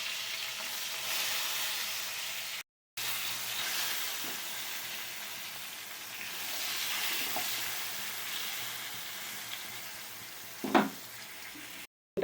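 Eggplant slices fry in hot oil, a steady dense sizzle that runs throughout, broken by a short gap and a few clinks and scrapes of a utensil in the pan.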